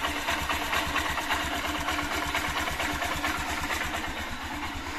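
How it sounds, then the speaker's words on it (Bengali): Close, steady idle of a Honda Shine BS6 motorcycle engine with a fresh fuel filter, an even rapid putter running continuously with no voices. "গাড়িও ভালো আইডেল রয়েছে।"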